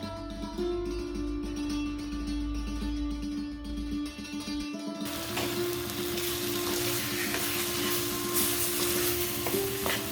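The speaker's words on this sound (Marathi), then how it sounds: "आता त्यावर आपण 2 टेबलस्पून दूध घालून घेणार आहोत।" Milk poured into roasted gram flour for Diwali mini laddu hits the hot pan midway, turning a quieter scraping stir into a louder, steady sizzle and bubbling as the mixture is stirred, with no talk.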